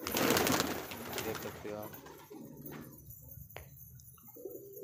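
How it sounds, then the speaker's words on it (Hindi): Pigeons coo softly amid outdoor bustle, with a person speaking briefly over the birds early on. "ये सारे कबूतर देख लीजिए आप, आपको अच्छे लगेंगे, बहुत ही सुंदर कबूतर हैं।"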